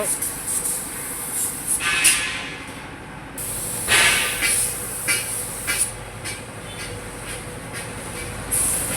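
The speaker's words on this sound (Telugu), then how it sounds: "ఇప్పుడు ఫైనల్ కూడా అయితే స్ప్రే అయితే చేస్తున్నాడు మా మేస్త్రి" A spray gun hisses steadily as final paint coats go onto zinc sheet mudguards for an Eicher tractor, with loud bursts of spraying rising and falling over ongoing workshop noise.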